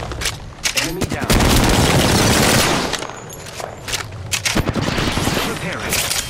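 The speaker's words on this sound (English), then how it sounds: "The enemies are shooting at me." Heavy automatic gunfire in the Apex Legends video game, loud bursts and sustained volleys with booming impacts, crowded together over several seconds with game sounds mixed in.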